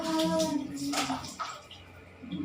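Water splashes and pours while an elderly woman is bathed in the morning, with close sloshing and trickling under a soft singing voice.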